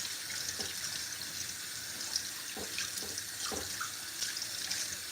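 Fresh fish being rinsed under running tap water in a sink, a steady gentle stream with soft splashes and drips, fairly quiet and without talking.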